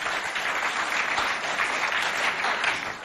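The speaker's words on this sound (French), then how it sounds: "applaudissez bien fort pour vous" An audience at a school event claps loudly and continuously, a dense wash of applause filling the whole moment without pause.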